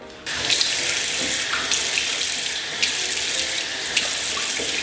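A bathroom tap runs cold water for rinsing the face, a loud, steady hissing stream that starts abruptly and continues, with brief splashy surges as hands cup and break the flow.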